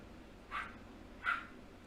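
Two short barks from a dog indoors, spaced less than a second apart, faint and somewhat distant against a quiet room.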